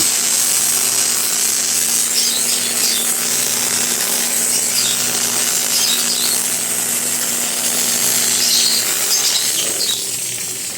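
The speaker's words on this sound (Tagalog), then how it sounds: "Yung foaming machine ng 4-in-1 car wash bed natin, napakaganda yan guys." A 4-in-1 coin-operated car wash vending machine runs its foaming unit, giving a steady, loud mechanical drone with a constant hum and a rough hissing wash over it. The level holds even for the whole stretch, with no voices.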